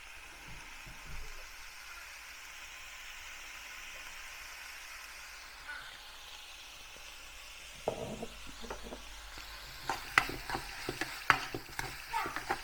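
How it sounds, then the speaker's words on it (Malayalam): Masala for a Kerala-style prawn theeyal sizzles softly in freshly added oil, then stirring picks up with sharp scraping and clinking spoon strokes against the pan as it sautés. "ഒരല്പം കൂടെ ഞാൻ എണ്ണ ഒഴിക്കുകയാണ്"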